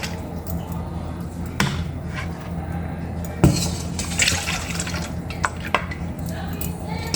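Chicken stock pours and splashes into a metal bowl in a home kitchen, an uneven liquid gurgle with scattered clinks and drips, plus a sharper knock of metal partway through.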